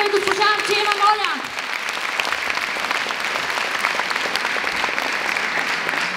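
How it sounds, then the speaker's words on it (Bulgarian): An audience at a Christmas celebration bursts into sustained applause, loud and dense clapping from a large crowd that follows a brief announcement by a voice over a microphone. "Вашите аплодисменти за госпожа Челюкова и госпожа Арчева, моля"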